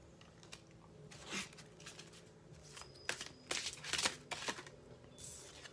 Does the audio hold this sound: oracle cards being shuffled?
yes